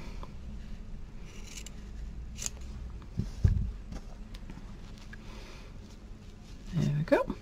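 Scissors snip little rectangles from paper for a craft flag, a few soft, sparse cuts close by over a low, steady background hum, with a short louder rustle near the end.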